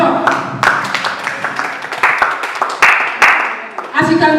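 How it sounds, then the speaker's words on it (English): An audience at a mental health talk show gives a short burst of applause, clapping mixed with voices and cheering over about four seconds. "Please, a round of applause."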